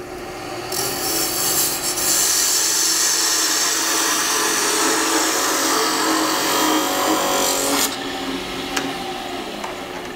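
Wood spindle on a lathe being parted off with a small parting tool, a steady close rasping cut that runs continuously for several seconds and then stops abruptly, with faint scraping afterward.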